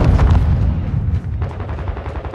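A hard-recoiling gun fires in a heavy, booming burst, loud and close. Rapid overlapping blasts roll together before easing into rumbling reverberation, with no voices.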